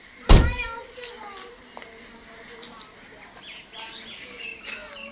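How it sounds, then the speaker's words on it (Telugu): Sparrows chirp faintly in short, scattered tweets at a beach house in Alappuzha, Kerala. A sharp knock comes first, and a voice and background chatter run throughout. "పిచ్చుకలు ఉన్నాయి"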